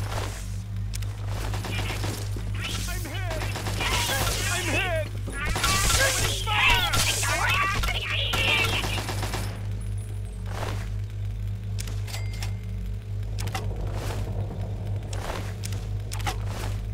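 Gunfire in Fallout 3: bursts of shots and clattering action across the first ten seconds, with a steady hum underneath and sparser sharp sounds afterward.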